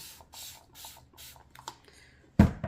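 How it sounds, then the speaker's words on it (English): Four short hissing bursts from a spray can at an even rhythm, a few faint clicks, then a sudden loud thump near the end. "I'm gonna spray it one more time."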